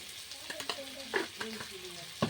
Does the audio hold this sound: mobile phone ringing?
no